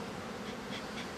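Honeybees at an open hive during an early-season inspection give a dense, steady, close buzzing drone with no speech.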